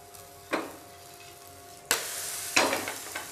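A healthy breakfast cooking in a pan makes a soft, steady sizzle, with several sharp bursts of frying as it is flipped and pressed. The sound is close and clear, and no one is talking.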